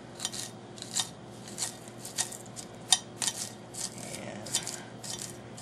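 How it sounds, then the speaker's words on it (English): Green onions from a community garden are chopped with a knife, a series of crisp, close cuts at an uneven pace, roughly a dozen snips and chops against a quiet background. "These are our green onions from our community garden out here where I live, and I'm just going to cut those up."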